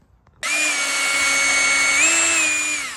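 A power drill bores out the rivets on the pull-cord housing of a cheap go-kart engine, a loud, close, steady whine that kicks in after a brief pause and holds for a few seconds, rising slightly in pitch, with no voices.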